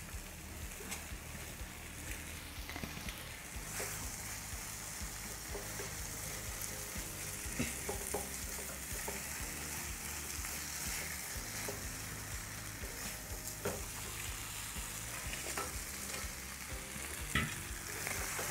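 Fish pieces frying in oil coated with a spiced masala paste, a steady broadband sizzle holding throughout with scattered clicks and scrapes of stirring, one sharper clack near the end.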